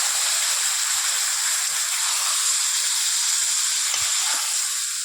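Potatoes and fish, here Bengali shankar fish, hiss loudly and evenly in hot oil in a pan, a dense close sizzle with faint low knocks and no talking.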